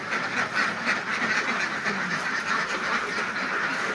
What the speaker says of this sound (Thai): อันนี้พอให้อาหารเช้าแล้วก็จะร้องเลยอยากออก